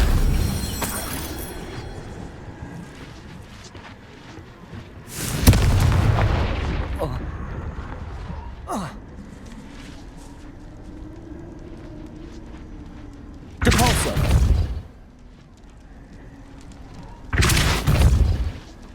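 The Confringo blast spell in Hogwarts Legacy goes off as loud booming explosions, several heavy bursts spaced apart with quieter rumbling between them.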